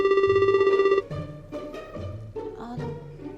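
A phone's electronic ring tone sounds steadily for about a second, followed by warbling, tonal ringback-style notes that continue to the end, clear and close with no talk.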